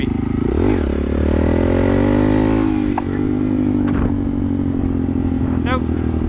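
Honda Grom motorcycle engine revving up and down with rising and falling pitch, loud and close, a few sharp throttle blips near the end and a voice talking over it.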